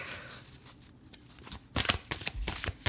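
Oracle and tarot cards being shuffled by hand, close up: soft riffling at first, then louder rapid bursts of flicking and slapping cards.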